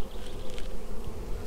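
Honey bees buzzing around an opened beehive, a steady close droning hum with no talk.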